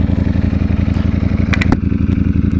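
A Ducati motorcycle engine runs close by with a steady, rapid low throb, joined near the end by a few sharp clicks and ticks.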